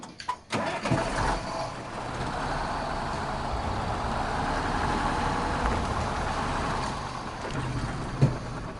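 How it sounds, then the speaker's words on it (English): A truck engine in the Spintires MudRunner off-road game turns over after a couple of clunks and settles into a steady, rumbling idle that continues throughout, fairly prominent, with no speech. "let's hear this car start, because the starting of this car is really weird"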